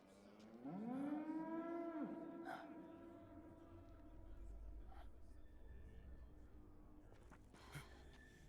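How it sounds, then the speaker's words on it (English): A cow in the Metal Gear Solid 4: Guns of the Patriots video game gives one long, low, rising moo, fairly close and clear, followed by a quiet stretch with faint murmuring and soft breathy noises. "Well, we know what that moo sound means."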